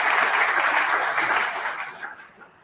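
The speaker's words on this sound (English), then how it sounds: "Another round of applause for Professor Peter." A university lecture audience applauds a professor at an inaugural lecture, a dense wash of clapping that holds steady and then thins and fades toward the end, heard alone with no talk.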